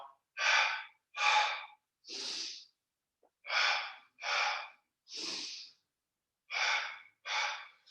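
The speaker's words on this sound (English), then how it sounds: "I inhale center, double exhale out the mouth." Yoga breathing during a hatha warm-up: eight sharp breaths in about eight seconds, paired exhales out the mouth following each inhale, close and clear with no talk.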